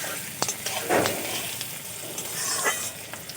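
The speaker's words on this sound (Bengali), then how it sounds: "আলু আর পেঁয়াজ খুব ভালো করে একসাথে আমি ভেজে নেব" Potatoes and onions frying together in a pan give a steady hiss and crackle, with occasional spatula scrapes and clicks as they are stirred, at moderate volume with no speech.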